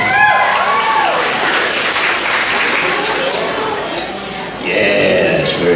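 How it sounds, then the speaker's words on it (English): Applause for children at a show, dense and steady throughout with cheering voices mixed in and a brief dip before swelling again near the end. "Nice round of applause for the kids."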